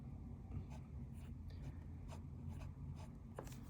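A Pilot Kakuno fountain pen with a Pilot stub nib scratches across paper in a steady series of faint, close strokes, with no talk over it.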